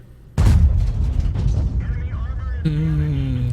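A heavy main gun firing from a VK 168.01 P tank in a video game: one sharp, loud boom that rolls into a long rumbling tail, followed by game interface tones.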